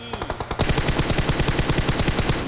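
Automatic weapon fire in PUBG Mobile during a pro league match: a few scattered shots, then a loud, sustained rapid burst with an even, pulsing rhythm and no voices.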